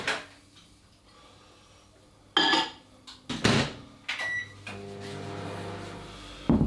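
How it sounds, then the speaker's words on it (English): A microwave oven warms golden syrup in a home kitchen: a door clunks open and shut, buttons beep, then a low steady hum runs with a closing click. "I'm going to pop it in the microwave for a few seconds just to warm it up"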